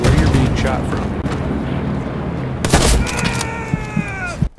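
Incoming gunfire in the WWII shooter Hell Let Loose: a dense, loud rattle of shots and booms that continues throughout, with several sharp cracks and a brief rising whine near the end.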